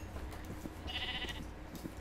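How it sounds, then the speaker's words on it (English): A single short, nasal sheep bleat from Minecraft rises briefly over a low continuous game background, faint and mid-distance. "I'm gonna have every sheep in this field following me by the end of this."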